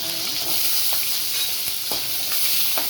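Small onions and a tomato sauté in oil for a chicken curry, giving a loud, steady close sizzle with a few faint scrapes of stirring.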